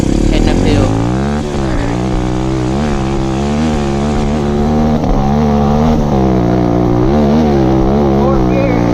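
An SSR150R dirt bike engine pulls hard up a steep, rough, whooped hill in fourth gear, a loud continuous buzzing drone that rises and falls in pitch with the throttle, close to the rider throughout.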